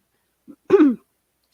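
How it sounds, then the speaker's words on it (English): A single harsh cough or throat-clearing burst, close and fairly loud, preceded by a faint short grunt and followed by silence. "Stop coughing."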